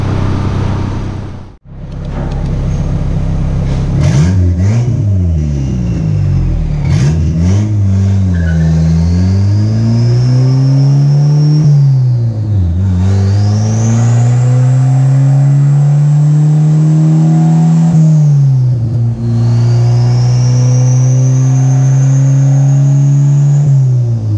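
A turbocharged LS-Vtec engine in a 1986 Honda CRX revs repeatedly on a dyno, climbing loudly through each pull with a rising whine, then dropping back, close and continuous with no talk.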